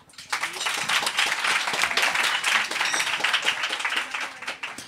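A crowd claps and applauds loudly and steadily through the whole stretch at a French-language podcast taping, the dense clapping broken by scattered claps, cheers and a few voices.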